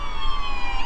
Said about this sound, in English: Oh, we got some sirens coming here.